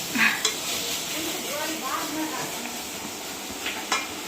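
Masala for dum aloo sizzles in a pan while a spoon stirs it, with an even, bright frying hiss and occasional sharp scrapes and clinks against the metal.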